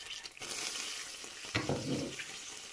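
Butter sizzles steadily as it melts in a frying pan while a Turkish yogurt soup is made, a continuous crackling hiss with a brief scrape or stir partway through.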